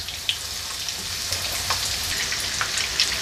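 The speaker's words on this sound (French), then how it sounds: "Et je viens mettre mes poireaux à frire dans mon huile bien chaude" Breaded leeks frying in hot oil, a steady bright crackling sizzle with scattered little pops, close and continuous with no voices.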